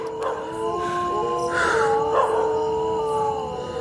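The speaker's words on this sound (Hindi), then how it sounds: "कुत्ते भी रो रहे हैं भाई।" Dogs howling in long wavering tones, one rising over another, against a steady background rumble.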